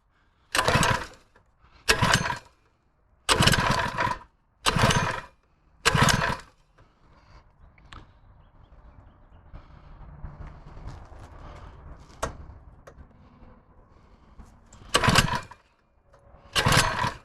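A brand-new Harbor Freight Predator 79cc 3HP small engine is started for the first time. Five loud, sharp bursts come in quick succession, then a low, quieter rumble continues. Two more bursts close out the clip.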